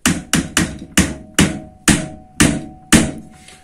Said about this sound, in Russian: Попробуем медным молоточком чуть-чуть.